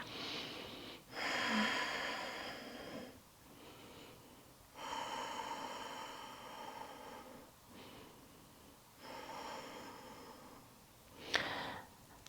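Slow, deep yoga breathing during a side lateral stretch: long airy inhales and exhales alternate in a steady cycle of about four breaths, close and soft, with a faint nasal rasp and no talking.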